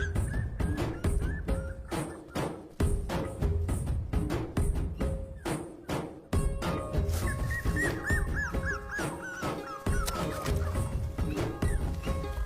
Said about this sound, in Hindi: बेचारा कुत्ते का बच्चा अंदर गिर गया है रवि।